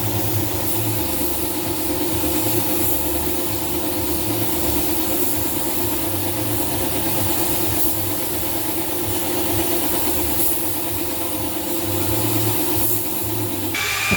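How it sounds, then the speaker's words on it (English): A machine polisher working car paint in multi-stage correction toward a mirror finish: a loud, constant motor drone with rubbing vibration, unbroken throughout and free of talk. "Using multi-stage machine polishing, we leveled the surface to a mirror finish."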